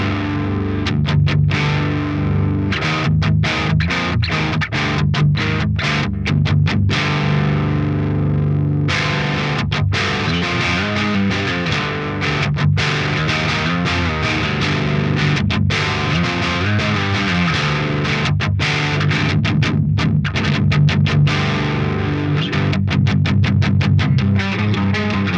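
A modded Marshall JCM800 amplifier pushes heavily distorted metal electric guitar, with chugging palm-muted riffs and sustained chords played continuously and loud, broken by brief stops, with no talking.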